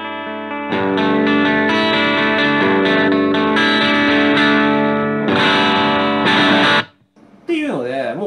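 An electric guitar plays sustained, ringing chords through a BOSS BD-2 Blues Driver overdrive pedal into a clean amp channel, giving a lightly broken-up, touch-sensitive tone. The chords ring loud and alone, then cut off briefly before a final strum.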